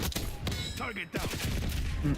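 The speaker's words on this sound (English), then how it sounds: "Enemy sniper shooting." Enemy sniper fire in a video game shooter, a loud burst of sharp cracks packed closely together amid dense game noise, with a voice speaking over it.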